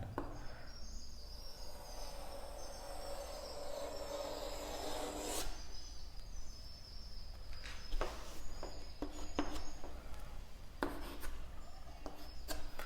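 A pen or pencil scrapes steadily across paper while a straight line is ruled for a school maths graph, the dry rubbing continuous and close, with a few sharper scratchy strokes near the end and no talking.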